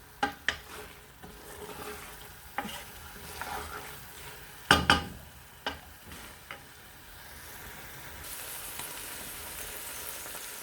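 Spinach and meat with spices for palak gosht being stirred in a pot, with a soft background sizzle and a handful of sharp spoon knocks against the pot, several clustered near the middle, and no talk.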